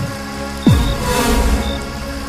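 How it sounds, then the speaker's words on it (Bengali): Rain and storm effects in a Bengali radio suspense drama: steady rain hiss over a low rumble, with a sweeping tonal swell partway through. "বাইরে বৃষ্টির শব্দ, ঝড়ের শব্দ"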